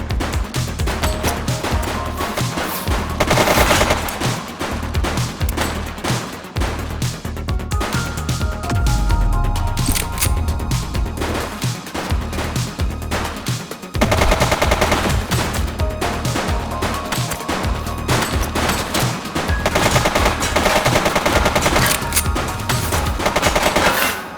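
Sustained gunfire from the police video game The Precinct, dense bursts of automatic fire and rapid shots layered over a continuous loud game soundtrack, with brief lulls before the firing resumes.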